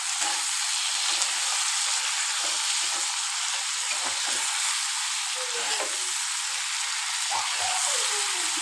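Turmeric, coriander and ginger-garlic paste fry in a kadai on the stove, giving a loud, steady close-up sizzle with occasional scraping stirs throughout.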